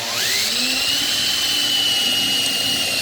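A drill bit being sharpened on a powered grinder gives a steady, high-pitched whine that holds loud and continuous for the whole stretch, with no talking.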